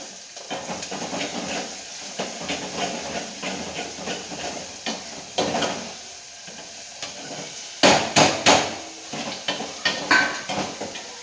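Tomatoes hit a pan of fried onions, giving a steady hiss and sizzle with scattered sharp crackles and a few louder bursts near the end.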